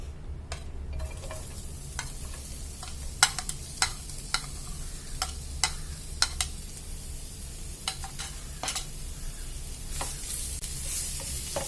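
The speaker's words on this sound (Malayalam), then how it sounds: "ആ ചിക്കൻ വറുത്ത വെളിച്ചെണ്ണയിലേക്ക് തന്നെ ഞാൻ ഒരു 2 സബോള, മീഡിയം സൈസ് സബോള അരിഞ്ഞിട്ട് കൊടുക്കുന്നുണ്ട്" Two medium chopped onions go into coconut oil left from frying chicken, hissing in a steady close sizzle while a spoon clacks and scrapes against the pan at irregular intervals.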